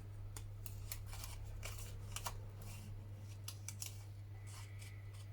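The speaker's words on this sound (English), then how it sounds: "a little bit of not so quick fussy cutting going on here" Scissors snip steadily through paper while fussy cutting pieces from a papercraft kit for a postcard pocket book, a quiet series of close, crisp cuts over a low steady hum.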